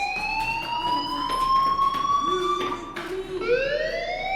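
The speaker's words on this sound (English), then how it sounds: "Hey, do you hear that fire alarm?" A fire alarm in the Life is Strange video game wails with rising and falling siren-like tones, loud and steady throughout and shifting pitch near the end.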